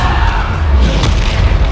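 Heavy booming blast from the Bombarda spell in Hogwarts Legacy, a single dense, loud low-end detonation that rumbles through a short burst of game combat.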